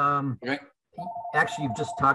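A telephone rings with a steady tonal chirp beneath a person talking, heard at moderate level through the speech.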